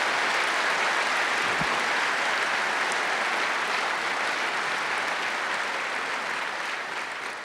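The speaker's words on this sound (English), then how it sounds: "How about it we just give them all a big round of applause?" Steady, full-room applause from an audience at a science lecture event thanking its sponsors, continuous and broad, tapering slightly toward the end.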